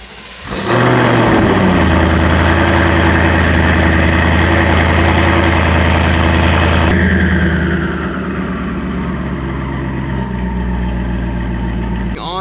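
A twin-turbo Ford Mustang S650 engine cranks and fires up loudly, then settles into a deep, steady rumbling idle close by, its tone dropping slightly after a few seconds.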